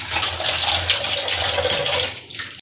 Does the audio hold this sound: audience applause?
no